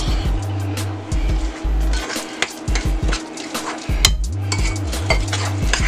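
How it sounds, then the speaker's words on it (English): Salmon cake mixture with breadcrumbs being stirred and mashed in a bowl, a close, loud run of scraping, clanking utensil strokes and thuds in an uneven rhythm, with only faint voice. "All right, mix this up real good."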